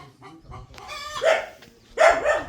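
Small chickens in a mesh-walled, tin-roofed farm shed in the shade of a tree, clucking and squawking close by in short bursts, with two louder calls near the end.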